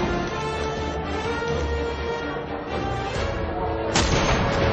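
Gunfire in a PS Vita launch-window shooter, a steady dense wash of game sound with one sharper loud burst near the end, no speech over it.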